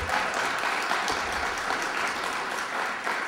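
A debate audience at a Utah congressional primary breaks into applause, a thick, sustained patter of many hands that stays loud and even from start to finish.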